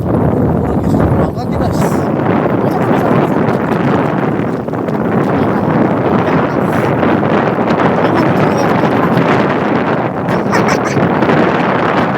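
Strong wind buffets a microphone outdoors during a bicycle trip, a loud, constant roaring rumble that fills the whole stretch with only slight dips, and a faint voice is partly buried beneath it.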